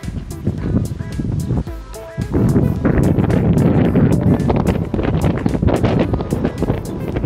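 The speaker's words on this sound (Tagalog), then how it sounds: "Grabe, sobrang mahangin kahit mainit yung hangin." Strong warm wind at a spring resort in Maramag, Bukidnon roars and buffets the microphone continuously, with a brief lull before gusting back even harder.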